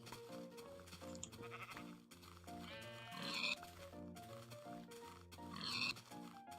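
Blocky Minecraft Indev sheep and pigs bleat and grunt repeatedly over a steady looping game music track, the calls arriving in short bursts at moderate volume with brief gaps between them.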